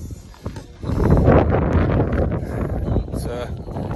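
Outdoor wind buffets the microphone at a local recycling tip, a loud rumbling gust that swells and persists, with faint voices beneath.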